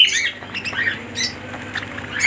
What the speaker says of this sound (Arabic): طبعا معانا برضو تشكيلة عصافير روزا اللاتيني وازرق واخضر بألوان مميزة